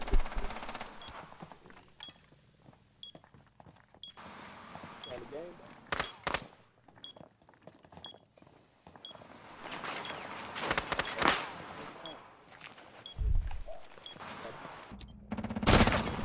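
Gunfire in the video game Rainbow Six Siege, scattered single shots and short bursts of varying loudness between quieter gaps, with people talking over parts of it.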